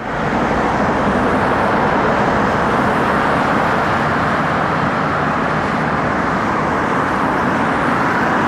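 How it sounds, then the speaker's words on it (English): Steady, loud roar of regular city car traffic beside an elevated SkyTrain line on a bridge, a continuous broadband road noise without distinct passes or pauses. "you have the noise of just regular car traffic and the SkyTrain going by"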